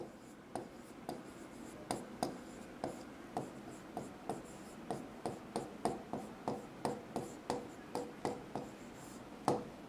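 A definition is written on a board, giving a rapid series of short, crisp taps and scratches. The strokes come roughly every half second at a quiet, steady level, with no talk over them.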